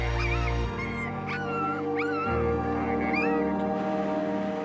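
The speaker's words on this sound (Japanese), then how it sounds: "ダンも自ら犬たちをセスナのケージの中へ" Puppies being moved into a cage aboard a Cessna light aircraft whimper and yip in high, wavering cries over a steady low mechanical hum, several short calls in a row, close by.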